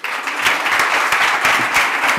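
An audience at the presentation of Córdoba Club de Fútbol's women's team applauds, a loud and steady burst of many hands clapping close together for a couple of seconds.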